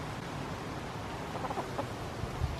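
Chickens cluck in short, faint bursts against a steady outdoor wash of background noise, a few soft calls near the middle and end with no talking.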